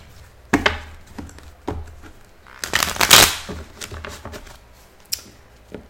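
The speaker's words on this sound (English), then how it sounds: "Let me just do a little bit more shuffling since I'm using this same deck." A deck of tarot cards is shuffled nearby, with separate sharp slaps and riffles building into a dense, loud burst of flicking cards midway, then a few scattered taps.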